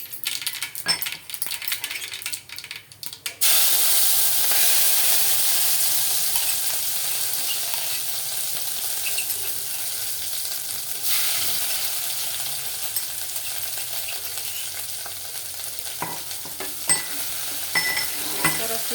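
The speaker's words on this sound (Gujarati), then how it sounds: "એક ચમચી જીરું નાખીશું અને આપણે જે આદું મરચું ને લસણની જે આપણે પેસ્ટ કરી હતી ખાંડી હતી તે આપણે નાખીશું એમાં" Cumin seeds and a ginger, chili and garlic paste drop into hot oil, bursting into a loud steady sizzle after a few spoon clinks, with stirring and scraping in the pan as the frying continues.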